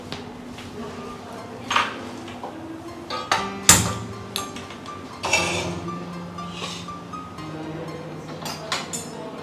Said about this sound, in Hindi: उसके बाद ना ये बर्तन पड़े हैं थोड़े से, वो भी कर दी